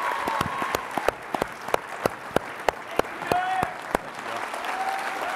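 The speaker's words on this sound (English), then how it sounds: "A big round of applause" An event audience breaks into a round of applause for star football guests: sharp individual claps ring out close by over a steady crowd wash, with voices and a whistle-like tone mixed in.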